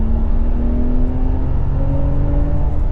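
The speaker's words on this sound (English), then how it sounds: "because it's an inline 6, it sounds really good" A Ram Rho pickup's inline-six engine revs hard in sport mode, rising in pitch steadily and loudly across three seconds as the transmission holds the gear, with no talking.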